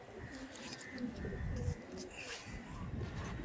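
Delhi Madrasi pigeons coo softly in a home loft, low burbling calls recurring faintly through steady background noise and occasional voices.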